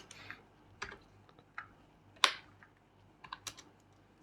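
Computer keyboard keys are pressed one at a time while Python code is typed, giving sparse, irregular clicks with short gaps, close by over a quiet room hum.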